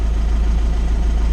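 An Isuzu Traviz engine suffering a low-power fault drones steadily and loudly at close range, with a deep, even rumble and no clear rise in revs and no talking.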